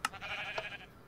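A Minecraft sheep bleats once, a short wavering cry that is faint and slightly distant over a quiet background.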